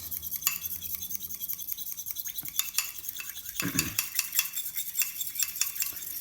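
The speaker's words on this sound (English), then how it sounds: "So you'll crack your eggs, and whisk your eggs together" Two eggs whisked together in a bowl for low-carb almond flour waffles: a fast, steady run of light metallic clicks and scrapes that continues without pause, fairly quiet and close, with no talking.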